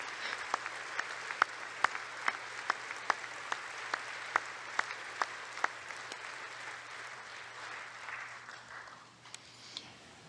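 Applause in the chamber at the 2018 State of the Union, a steady wash of crowd clapping heard at a distance, with one set of sharp, close, regular individual claps standing out over it for several seconds before tapering off.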